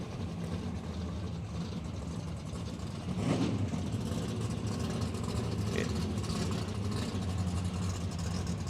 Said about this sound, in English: Couple of classic Holdens lining up now.